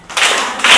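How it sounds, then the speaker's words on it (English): A small group of children clap during a devotional session, a brief burst of close hand claps lasting under a second, rising quickly and swelling again near the end. "Jacob and Esau, give him a clap."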